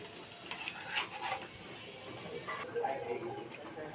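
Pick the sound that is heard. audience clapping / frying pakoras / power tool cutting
frying pakoras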